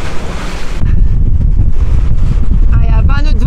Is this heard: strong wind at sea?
yes